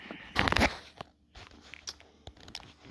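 A plastic bag of frozen shrimp-and-chive and pork dumplings is handled up close, a loud crinkling burst followed by lighter scattered crackles and rustles.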